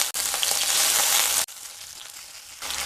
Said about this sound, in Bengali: প্রথমে কড়াইতে সাদা তেল দিয়ে দেব। তেলের মধ্যে দিয়ে দেব 3 পিস কেটে রাখা টমেটো।